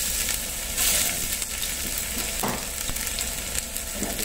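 Garlic sautéing in cooking oil for salmon head sinigang sizzles steadily at close range, with a few clinks and scrapes of stirring breaking through the hiss.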